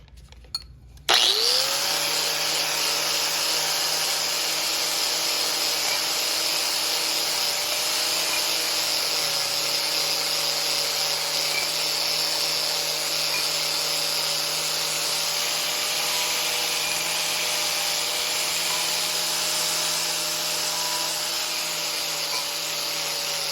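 An angle grinder buffing aluminum control arms starts up sharply and then runs at a steady, loud, close whine with a grinding rasp, holding nearly unchanged for over twenty seconds with no talking.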